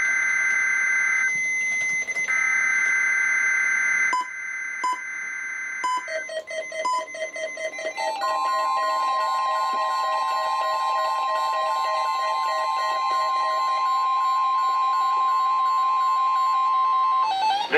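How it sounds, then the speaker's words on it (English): A weekly test of a NOAA weather radio alert: loud, sustained electronic tones broken by short beeping bursts, then a long steady high tone holding to the end, close and alone without speech. "This is a test of the All Hazards NOAA weather radio warning device."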